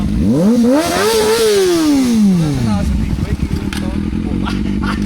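A motorcycle engine revs up sharply, climbs to a high whine and drops back to a rough, clattering idle, loud and close.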